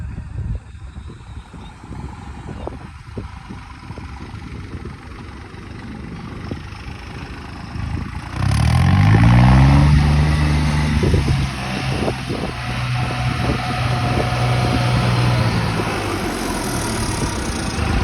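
A running 21-model tractor engine, 3630 or 855, rumbles loud and close with a steady low drone that thickens and surges about halfway through, holding strong to the end with no talk.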